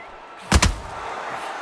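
A heavy double thump of a counter punch landing in the boxing video game Undisputed, two quick close impacts in a row over a steady background of crowd and arena noise.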